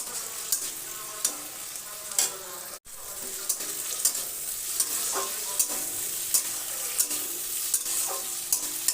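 Thinly sliced tomatoes stirred into frying onions in a pan, a continuous sizzle with regular scraping and tapping strokes of a spatula.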